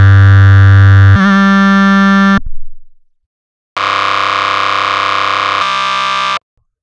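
Distorted growl bass synthesized in FL Studio, Skrillex-style: loud sustained buzzing tones, a wobbling mid-pitched section, then a short decaying tail, a gap of silence and another harsh, dense sustained growl.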